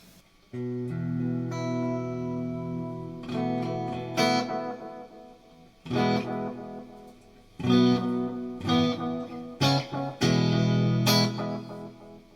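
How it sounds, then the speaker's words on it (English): Guitar chords through a Strymon El Capistan tape echo pedal, drenched in a wobbly, smeared echo that repeats and decays with warbling pitch, played in several bursts with short gaps between. "It's going to sound like a completely old, degraded piece of tape echo"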